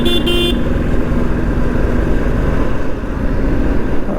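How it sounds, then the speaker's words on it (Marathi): Car horns toot over a steady roar of motorcycles and traffic on a busy, crowded road during a Ganesh festival procession, with a couple of short honks near the start. "बघू शकता हॉर्न वगैरेचा कसा आवाज आहे ते."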